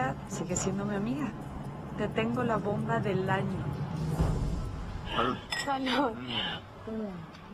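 Drinking glasses clink together in a toast, a single bright chime partway through while people keep talking over and around it.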